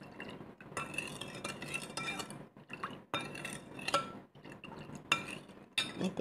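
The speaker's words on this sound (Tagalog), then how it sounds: "Ihalo lang siya ng mabuti." A spoon stirs sugar into a liquid for green mango pickle, with repeated close scraping and clinking against the container in uneven strokes and brief pauses, with no talking.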